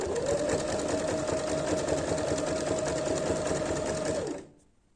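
A sewing machine runs in a steady, fast mechanical whir while zigzag-stitching along the edge of white fabric, close and constant, then stops abruptly near the end.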